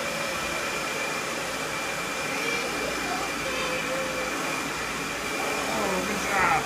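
A household vacuum cleaner runs steadily at close range, a continuous broadband roar that holds level throughout with only slight swells, and no clear speech over it.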